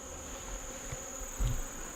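Honeybees around a newly installed nuc hive give off a steady, close buzzing hum that stays fairly even in level, with a few louder passes. Nobody talks.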